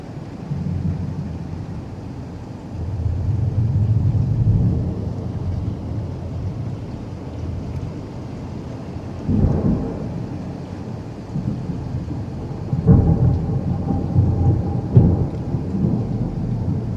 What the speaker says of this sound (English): I had a lot of storming today, a lot of thunder and lightning.